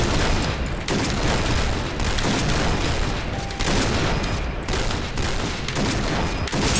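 Sniper rifle gunshots in a shooting video game, heard as dense, loud, continuous gunfire with heavier blasts recurring throughout.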